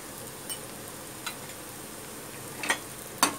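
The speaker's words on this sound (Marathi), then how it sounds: "आता हे चांगलं परतून घ्यायचं।" Coconut paste and red masala sauté in a pan for Maharashtrian okra bhaji, giving a soft, steady sizzle with a few faint clicks of a spoon against the pan.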